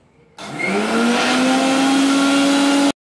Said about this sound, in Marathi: टोमॅटो, लसूण, आलं, मिरची सर्व मिक्सरच्या भांड्यामध्ये घालून त्यामध्ये 1 चमचा जिरे घालायचे आणि मिक्सरमध्ये चांगले बारीक वाटून घ्यायचे